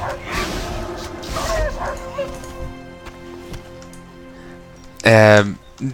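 Dog-like gnoll creature in World of Warcraft gives a sharp, loud yelp near the end, after a stretch of game background sound and someone talking.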